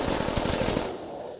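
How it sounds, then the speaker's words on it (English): Rapid rotary fire from the Death Machine minigun in Call of Duty custom zombies, a fast even stream of close, heavy shots that stops after about a second, leaving a brief fading tail. "Yes, death machine, yo."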